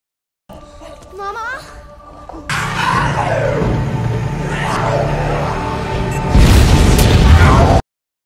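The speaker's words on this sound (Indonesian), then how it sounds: "Elias pun meledakkan pesawatnya" A plane blows up in the film Blood Red Sky: two heavy, broad explosive blasts burst over a tense soundtrack, the second louder and longer, with faint voices in the mix.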